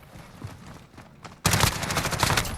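Loud, dense automatic hip fire from an MP5/10 submachine gun in Call of Duty Modern Warfare, starting abruptly partway through after a quieter stretch and continuing as a rapid sustained burst to the end.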